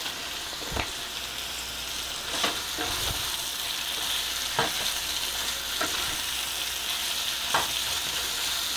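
Onions fry with chili flakes in a pan, giving a soft, even sizzle with a handful of spaced spatula scrapes and taps, fairly quiet and close.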